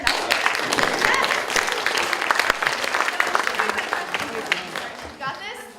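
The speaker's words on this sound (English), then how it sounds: "Can we just give her a round of applause?" An audience breaks into sustained applause, dense clapping with a few cheers, gradually thinning out toward the end.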